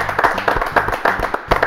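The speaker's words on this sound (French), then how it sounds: "vous pouvez vous applaudir" A studio audience on a French live TV show claps in brisk bursts of applause, close and steady, with several hands beating in uneven rhythm throughout.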